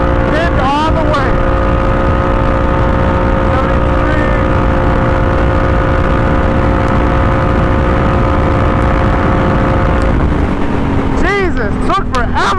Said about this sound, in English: Full throttle, baby. Pinned all the way.